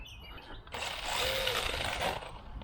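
A 1/16-scale HBX 3103A brushless RC short course truck runs on a 2S battery, its motor letting out a sudden whining, buzzing rush that swells for about a second and a half, then drops away, heard close up outdoors.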